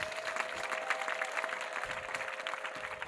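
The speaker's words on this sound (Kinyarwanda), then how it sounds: "dukomera Imana amashyi menshi" A church congregation at a Monday ADEPR prayer gathering claps together, a soft, fairly distant patter of applause running evenly throughout, with a faint steady tone lingering beneath it.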